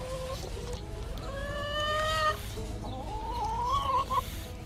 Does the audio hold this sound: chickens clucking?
yes